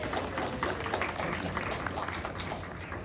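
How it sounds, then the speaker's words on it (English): A small group at a high school district board of education meeting claps after a vote, giving soft, scattered applause that stays fairly quiet and lasts about three seconds. "Now we can clap."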